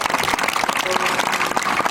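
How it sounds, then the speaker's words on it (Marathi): Applause from a theatre audience at a stage birthday celebration, sustained dense clapping that holds steadily loud for under two seconds with no one speaking. "पुरुष जोरदार आणि खडखडीत टाळ्या"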